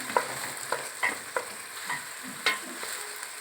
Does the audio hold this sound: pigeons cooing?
no